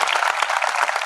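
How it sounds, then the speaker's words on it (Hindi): Audience members at a Hindi comic poetry recital clap loudly and continuously in a brief, dense burst of applause. "मुझे भी तालियों की गड़गड़ाहट अच्छी लगेगी"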